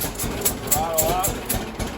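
A John Deere Model A tractor engine runs after the throttle is opened, putting out a steady rhythmic chug of evenly spaced pulses with a person talking over it.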